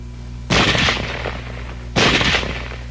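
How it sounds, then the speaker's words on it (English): Small arms fire from weapons with selectable automatic and semi-automatic fire, recorded for a 1945 training film: two loud sharp bursts of gunfire about a second and a half apart, each decaying into echo over a steady low hum. "Now let's look at weapons which have both automatic fire and semi-automatic fire."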